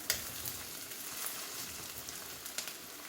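Sliced onions frying in a pan, a soft, even sizzle and crackle with a few faint pops, quiet and continuous with no voices.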